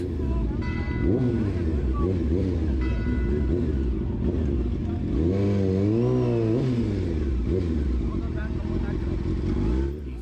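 Motorcycle engines rumble and rev steadily throughout at a motorcycle rally in a town square in Topoľčany, Slovakia, with a rising and falling whine in the middle, under continuous talking, fairly close and loud.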